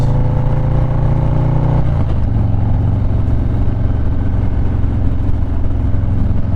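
A 2020 Harley-Davidson Low Rider S rumbles along on a Sunday ride, its engine droning loud and steady with a shift in pitch partway through, continuous throughout with no talking.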